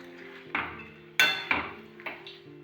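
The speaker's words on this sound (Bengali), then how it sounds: "মুগ ডালটা একটু নেড়ে চেড়ে" A spoon stirs moong dal and vegetables in a metal pot, giving five or six distinct metallic knocks and scrapes at uneven intervals, close and fairly loud, with no talking.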